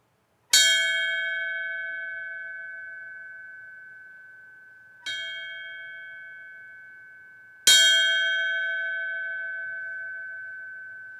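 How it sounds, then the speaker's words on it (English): A memorial bell at a fire chief's memorial service, struck three times with clear, ringing tones that decay slowly, the second and third strikes spaced closer together, heard alone in a quiet setting. "the bell rings 3 times in memory of and in tribute to his life and service"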